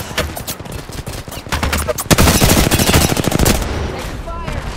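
Rapid bursts of automatic gunfire in a video game, loud and close, a dense stuttering volley that swells into a sustained barrage, with a voice briefly talking over it.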